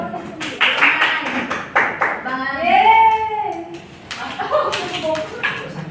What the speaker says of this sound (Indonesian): Beri tepuk tangan untuk yang sudah berani maju ya.